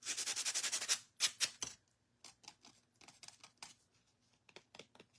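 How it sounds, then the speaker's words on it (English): Sandpaper rubs over a paper napkin glued down with Mod Podge on a Dollar Tree craft piece. A quick run of rhythmic scratchy strokes gives way to softer, scattered rubs, all quiet and close. "you want to be careful and not sand your napkin on top off"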